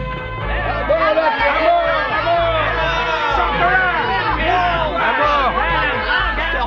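Village crowd gathering and chattering in a radio drama scene, a dense babble of many overlapping voices, loud and continuous throughout with no single speaker standing out.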